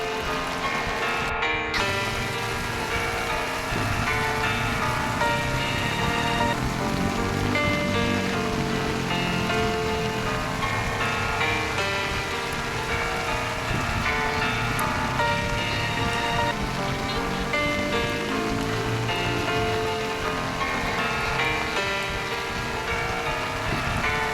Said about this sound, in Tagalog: Inabot na kami ng ulan dito.